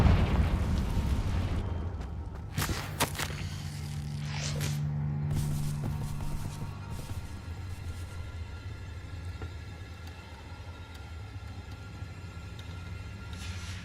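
A Confringo blasting spell goes off in Hogwarts Legacy, a sharp burst around two to three seconds followed by a rumbling, fading boom that trails away, heard alone with no talk.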